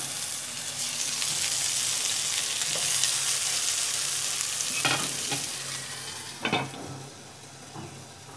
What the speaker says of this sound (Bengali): এভাবেই আমি বাকি বেগুনগুলো সব ভেজে নেব